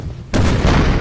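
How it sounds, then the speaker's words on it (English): Artillery firing from a hill in Napoleonic Total War 3, a single sudden loud boom cutting in after a quiet moment and rolling on with a heavy rumble. "The artillery on a hill fires way better, way more accurate."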